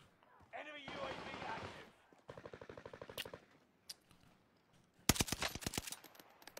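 Gunfire in a first-person shooter video game: a long rattling burst of rapid automatic fire, then a few scattered single shots and a dense, loud closing volley, with a voice exclaiming briefly early on.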